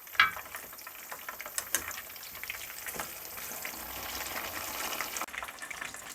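Coated chicken pieces fry in hot oil for a chicken-in-basket dish, giving a continuous close sizzle and crackle with a few sharp clinks and splashes as the pieces are turned.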